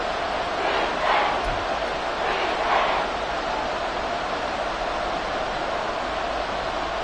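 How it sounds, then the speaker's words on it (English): A football stadium crowd late in the fourth quarter of a close game, a dense roar of many voices with a couple of swells rising out of the steady wash of noise, loud and broad with no clear speech. "This crowd turning up the decibel level."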